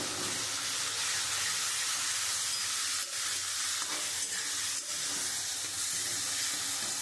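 Mustard paste ground with green chillies hits hot oil and spices, giving a loud, steady sizzle and frying hiss with stirring scrapes throughout, no voices.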